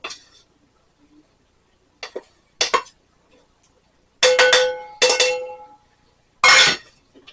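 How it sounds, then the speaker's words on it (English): A spoon clinks against a bowl while apple cake batter is mixed with all-purpose flour, in short separated bursts of scraping and knocking near at hand. "Mix that in well."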